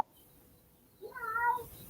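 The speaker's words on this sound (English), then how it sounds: "Do you hear the kitty?" A single cat meow, fairly clear and moderately loud, rising midway through an otherwise quiet stretch.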